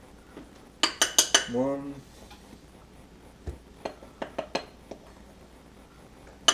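A measuring cup scoops and scrapes bread flour, with a quick run of clinks and taps followed by scattered light knocks and scrapes. A voice counts briefly over the sounds.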